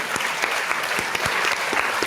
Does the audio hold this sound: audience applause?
yes